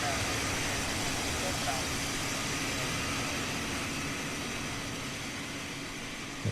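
Steady broadband roar of an iniBuilds Airbus A330-200's engines in a flight simulator game, a continuous, loud, even drone with little variation throughout.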